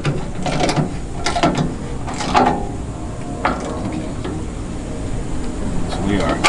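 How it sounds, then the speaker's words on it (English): A hand ratchet tightening the nuts of a lock on a 4-post car lift, with repeated clicking strokes and metallic scraping in an echoing garage, close and fairly loud. "I've switched back to using just the ratchet to show that you can do it with the ratchet"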